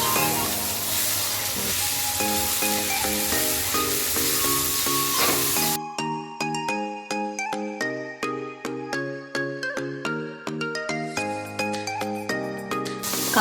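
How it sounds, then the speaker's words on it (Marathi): Onion, tomato, garlic and ginger fry in a pan with a loud sizzle at first, then the sizzle cuts out and bright tinkling music takes over for the rest. "अद्रक सगळं अगदी व्यवस्थित फ्राय झालं आहे"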